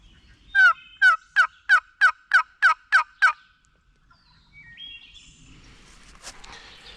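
A wild turkey gobbles in a rapid burst of about nine loud, rhythmic notes during a Pennsylvania spring turkey hunt, followed by quieter rustling and faint background bird sounds.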